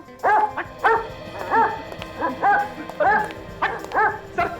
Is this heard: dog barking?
yes